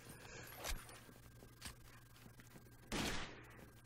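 Machine gun fire in the Rainbow Six Vegas shooter game, heard as three separate sharp bursts spaced apart, the last one the loudest, over a faint background hum, with no talking.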